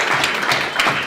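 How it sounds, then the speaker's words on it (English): An audience at a hackathon demo event applauds the sponsors, a brief, steady burst of many hands clapping. "So could we have a round of applause for those guys?"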